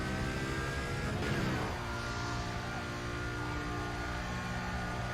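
A Lamborghini Murcielago in Need for Speed: Carbon drives hard with a loud, sustained engine roar that climbs and shifts in pitch, a brief swell near the start.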